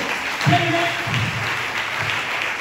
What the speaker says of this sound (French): là vous avez applaudi